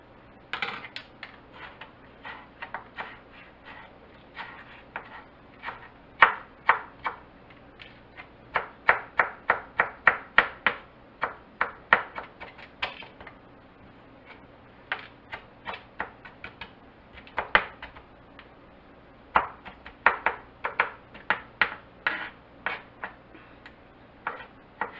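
A knife chops canned peaches and fresh mango on a cutting board, quick runs of sharp, close taps broken by short pauses, with no voices.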